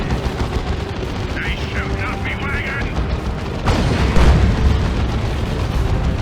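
Nurgle cannon shots in the Dawn of War 2 Retribution strategy game strike a Loota tank, producing heavy booming artillery blasts amid battle noise, including one strong impact midway. A commentator talks over the action.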